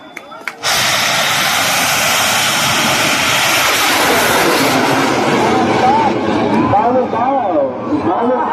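A bang fai rocket launches at a rocket festival in Fa Huan, Kho Wang, Yasothon, its loud roaring rush starting abruptly and holding steady for several seconds while crowd voices and shouts carry underneath.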